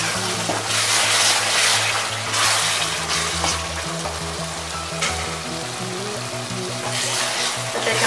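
Tomatoes frying in masala for a fish curry give a steady, close sizzle with faint stirring. Low music-like tones and some background hum sit underneath, and there is no talk.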